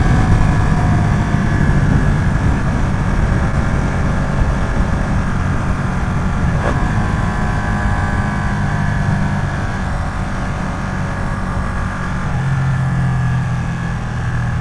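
A Ducati V2 motorcycle engine drones steadily and loudly while riding, with a constant low rumble and wind noise and no clear pauses.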